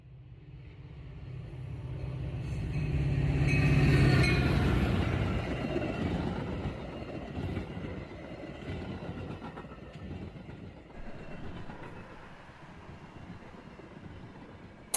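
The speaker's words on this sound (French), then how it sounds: "J'entends depuis ma chambre les trains qui passent trop tôt" Trains passing early in the morning, heard from inside a bedroom: a broad rumbling roar swells over a few seconds, then fades into a lingering distant rolling noise.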